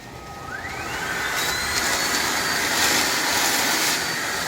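A Milwaukee cordless battery air blower runs steadily, a loud continuous rushing whoosh that swells slightly as it continues, with no talking.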